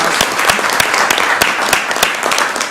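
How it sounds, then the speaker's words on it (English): A room clapping at a city council meeting, a brisk, moderately loud burst with a few sharp individual claps standing out over the general patter. "let's give him another round of applause"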